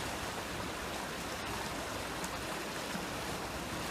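Rushing water of the Highwood River at a crossing point, a steady broadband wash of flowing stream close by, continuous and even with no voices.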